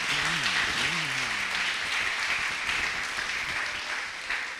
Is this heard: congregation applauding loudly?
yes